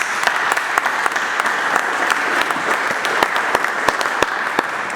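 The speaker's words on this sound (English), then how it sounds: "Give Marcus a round of applause." A church congregation applauds at a sermon, a steady dense round of clapping that holds at even loudness throughout with sharp individual claps standing out.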